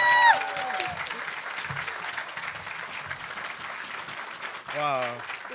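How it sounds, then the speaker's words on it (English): Audience applause follows a speech at a university graduation celebration, steady clapping across the crowd, with scattered cheers and a voice rising over it near the end. "Let's give another round of applause."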